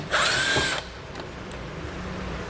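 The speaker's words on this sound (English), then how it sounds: "So we're going to remove this T15 screw here." A power drill whirs briefly while backing out a T15 screw from the front fascia of a 2016 Buick Envision, a single short high whine that stops abruptly, close up, followed by quiet garage ambience.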